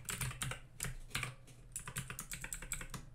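Rapid keystrokes on a computer keyboard while entering JavaScript code, a dense run of close, crisp clicks with short pauses between bursts, no voices.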